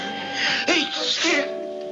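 One sharp sneeze bursts out, loud and close, with a quick breathy intake just before and a trailing vocal tail after.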